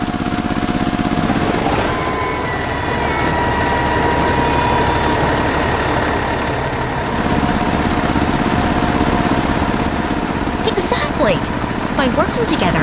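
Animated toy tractor and truck engines idle in a steady low rumble throughout a 3D construction scene, with a voice narrating over them.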